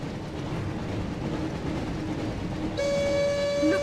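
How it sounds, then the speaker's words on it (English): Rumbling Hogwarts Express train in the 2002 PS1 Harry Potter and the Chamber of Secrets game, a steady mechanical rush that swells near the end with a sustained whistle-like tone, no talk. "Looks like we found the train, Ron."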